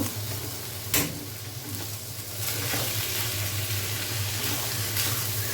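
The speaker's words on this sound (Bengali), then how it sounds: "বাবাটা রসুন বাটা চালের সাথে দিয়ে দিয়েছি এখন চালটাকে ভেজে নিব" Rice fries in a pot with garlic paste, cardamom, cinnamon and onion, producing a steady close sizzle with a sharp stirring clack near the start and a louder, fuller crackle later on, no voices.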